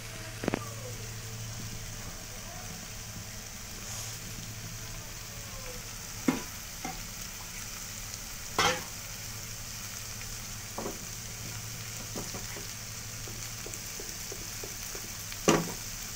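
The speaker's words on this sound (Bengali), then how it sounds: "এর মধ্যে আমি সবগুলো দিয়ে দিচ্ছি সবজিগুলো। এটাকে খুব ভালো করে নাড়াচাড়া করে নিতে হবে।" Vegetables being stirred and fried in a pan give a continuous close sizzle, with sharp scrapes and knocks of the spoon against the pan at irregular intervals.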